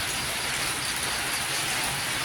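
Steady rain falls at an elephant village in Thailand, a dense, even hiss that is loud and close, with no voices or other sounds breaking through.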